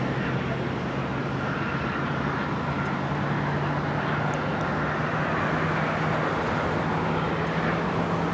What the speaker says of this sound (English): We have a Hawaiian A330 now rolling on 24 right.